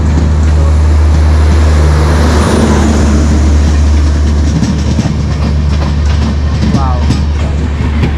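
The Guwahati Rath Express passenger train rolls past very close and loud, a heavy continuous rumble with rhythmic wheel clatter and grinding, filling the whole stretch; indistinct voices may sit under the noise.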